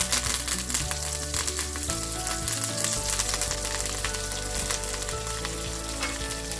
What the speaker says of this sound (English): Now these are fresh curry leaves, so you want to be careful because they really splutter and pop.